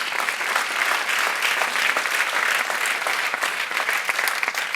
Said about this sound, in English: let's give a round of applause to our faculty for their leadership